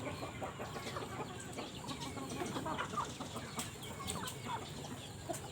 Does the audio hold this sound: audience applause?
no